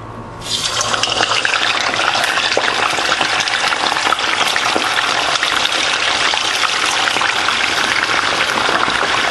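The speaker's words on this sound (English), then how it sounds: "When it's hot and ready, you begin frying." A loud, steady sizzling hiss starts abruptly and carries on without pause as fish fries in hot oil close by.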